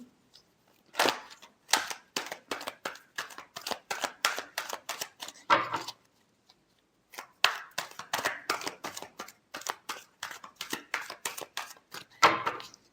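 Tarot cards are shuffled by hand for a weekly Leo horoscope reading, two long runs of quick crisp riffles and taps separated by a brief pause, close and fairly quiet with no voices.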